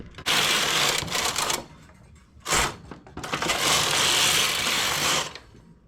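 A domestic knitting machine set to KC mode runs in loud raspy sweeps, the carriage rasping across the needle bed in three passes with short pauses between, close up and with no talk.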